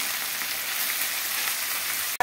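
Cooked rice frying in a kadhai, a steady dense sizzle with light crackle close up, ending with a single sharp knock near the end.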